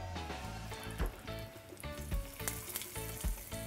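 Tadka of asafoetida and curry leaves sizzling in hot oil, a close, continuous crackling fry with sharp pops scattered across a few seconds, no talking.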